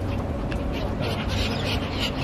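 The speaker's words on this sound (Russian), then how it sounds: "О, какие интересные чайки." Gulls calling at a lakeside in Karelia, repeated harsh squawking cries over a constant wash of background noise, with a voice faintly present.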